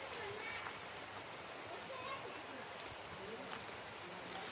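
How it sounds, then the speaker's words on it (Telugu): Steady, dense rain hiss fills the whole stretch, a constant broadband wash with scattered drops, loud and close with no pause. "యాక్చువల్లీ వర్షం బాగా పడుతుంది."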